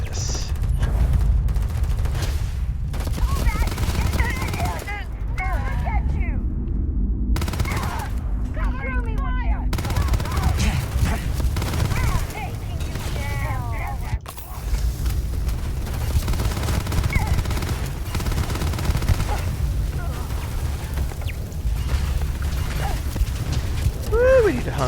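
Turrets in the sci-fi video game Starfield open fire in rapid, clustered bursts of gunfire mixed with mechanical clatter, loud and continuous under someone talking.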